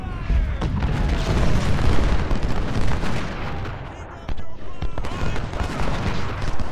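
Heavy booming cannon fire in the video game Ultimate General: Civil War rolls continuously with dense blasts and rumbling, some sharper reports cutting through a loud, chaotic battle din.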